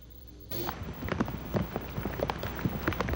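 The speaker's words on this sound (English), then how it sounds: "Sure, it's raining" Rain falls in a steady patter after a quiet start, scattered drops tapping on nearby surfaces with an irregular, moderately loud texture and no talking.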